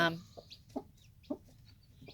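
Barnyard flock of two roosters and about thirty hens, a few short soft clucks spaced over two seconds, fairly close and quiet with low background noise.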